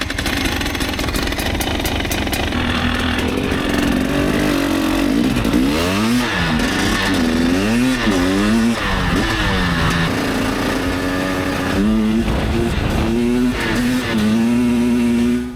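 A 300cc two-stroke motorcycle revs hard and close, its raspy engine note rising and falling in repeated sweeping bursts as the rider works the throttle, loud throughout with no talk.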